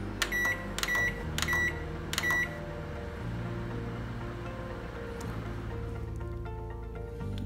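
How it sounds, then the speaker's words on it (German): Microwave oven at full power heating cake batter in a mug: a steady low hum runs throughout, with several short electronic beeps near the start. "Der Teig geht jetzt in der Tasse in die Mikrowelle bei voller Wattzahl."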